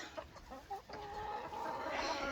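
Hens on a homestead farm cluck in short, uneven bursts close by, followed by a steadier rising squawk or cackle, with no voices.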